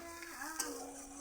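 Fried crab is stirred in a pan with turmeric, salt, chili and green chili paste, giving faint scraping and soft sizzling with a light clink near the middle, quiet and without talk.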